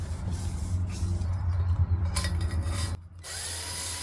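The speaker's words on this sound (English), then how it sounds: "Very low speed on the drill and quick up and down stroking movement" A power drill honing the cylinders of a 1988 GSXR 750 motorcycle engine whirs steadily at low speed with a rough mechanical grinding hum, cutting out briefly near the end before resuming.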